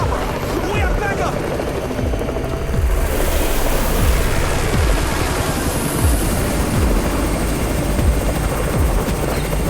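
A helicopter arrives in the zombie survival video game Undawn, its rotor chopping in a heavy, continuous thrum that stays loud and close throughout, with a rushing wash of noise over it.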